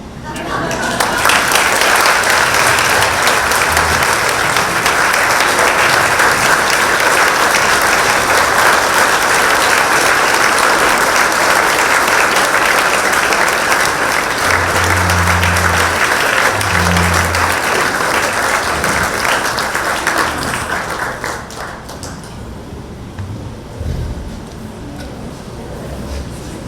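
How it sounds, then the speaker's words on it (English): Sustained loud audience applause fills a hall at a high school hall of fame induction ceremony, steady clapping for about twenty seconds before it thins out and fades near the end. "how about another round of applause for our inductees?"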